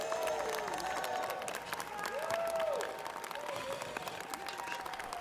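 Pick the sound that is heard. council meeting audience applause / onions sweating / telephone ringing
council meeting audience applause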